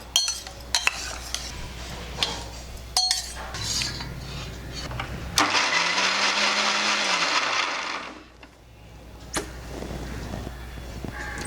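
A mixer grinder whirs loudly for a couple of seconds, grinding cooked green grapes into a grape chutney, framed by clinks and taps of the jar and lid before and after the burst.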